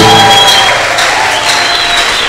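Men of a French-speaking church congregation applauding and cheering at a sermon: steady, dense clapping with shouts mixed in, loud and continuous throughout, with a few voices rising above the crowd.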